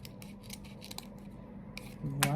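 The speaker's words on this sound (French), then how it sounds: "mes ciseaux qui sont ici." Scissors snip and rustle through paper at a craft table, several short quiet cuts and handling sounds close by, followed by a brief low hum and a rising squeak at the end.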